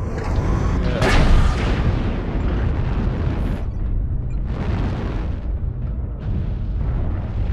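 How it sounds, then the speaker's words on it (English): Airstrike explosions in a military shooter game roll in as loud, overlapping booms and rumbling eruptions, with a sharp blast near the start and sustained heavy thunder continuing throughout. "Okay, drop your airstrikes."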